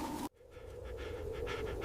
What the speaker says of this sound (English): Left panting in the disturbed snow, the fox accepts defeat.